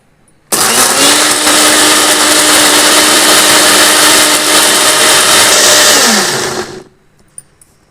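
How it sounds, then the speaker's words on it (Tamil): Mixer grinder whirs loudly and steadily for about six seconds, grinding spicy chutney ingredients with tamarind and salt, its motor pitch holding steady then dropping as it switches off. "இப்போ ஒன்றா போட்டு நம்ம அரைச்சிக்கலாம்"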